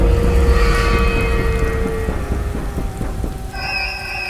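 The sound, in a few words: heavy rain and thunder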